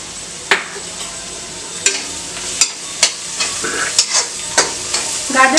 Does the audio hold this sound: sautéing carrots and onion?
yes